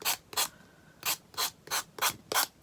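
A small electric finger sander works over a wooden book in six short, even bursts of raspy buzzing separated by brief pauses, close and fairly quiet.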